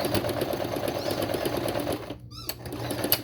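A sewing machine back stitches across flannel, a rapid close mechanical clatter that runs steadily, breaks off briefly, then resumes.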